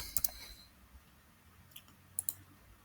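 A computer mouse clicks on a download button during software installation, with a few sharp, close, quiet clicks spread apart against a soft background hum.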